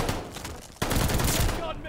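MP40 submachine gun in the Call of Duty Vanguard video game, firing in a short loud burst of rapid automatic shots that cuts in sharply midway and stays dense to the end.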